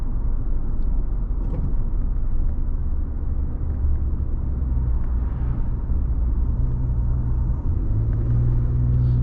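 A 2014 Ford F-150 Platinum pickup driving with a low steady rumble of engine and road noise heard from inside the cab, the pitch climbing slightly toward the end as the transmission kicks down.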